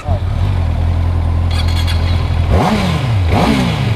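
A Honda CB650R four-cylinder motorcycle idles with a steady low hum, then revs sharply twice, each rev rising and falling, loud and close, with voices talking over it.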